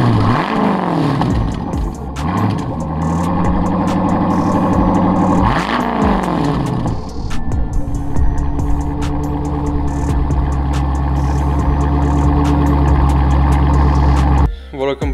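A powerful car engine revving hard several times, rising and falling loudly up close, then settling into a deep, steady rumbling idle before cutting off near the end.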